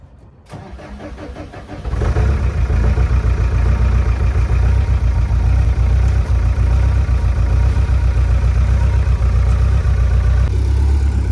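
A skid steer engine cranks briefly, catches and settles into a loud, steady idle with a throbbing low rumble and rapid rhythmic chatter, running close by without talk.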